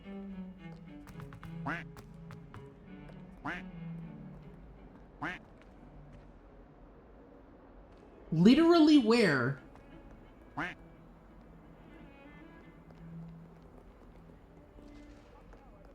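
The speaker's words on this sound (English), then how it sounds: "I heard the damn duck." A duck in Hogwarts Legacy quacks in a short loud burst of several rapid nasal calls, close by, amid quiet game ambience, footsteps and someone talking.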